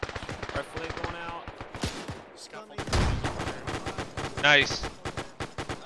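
Rapid automatic gunfire and single shots from a multiplayer shooter game crackle in loud bursts, with a short lull midway, while players talk over the action.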